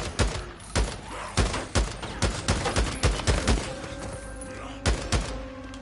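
Gunfire in a zombie video game, a string of loud, sharp single shots fired in uneven rhythm, close and punchy, with a faint voice briefly underneath and a steady game tone toward the end.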